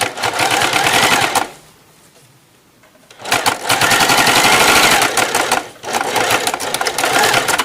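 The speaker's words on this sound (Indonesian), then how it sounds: "Nah di bagian akhiran juga harus dijahit mundur ya, jahit bolak-balik maksudnya" Close, loud bursts of rapid sewing machine stitching run while backstitching a bag lining, broken by a quiet pause and a brief gap before the stitching resumes.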